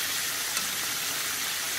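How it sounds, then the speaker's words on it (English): Chicken tenders deep frying in hot oil give a steady, even sizzle with a dense hiss that holds close and constant from start to end, with no talk over it. "Now, these are deep frying."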